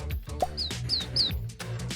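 Bright, quick chirps from a bird, three or four short high tweets close together, heard over a busy background of murmuring and low thuds at a zoo.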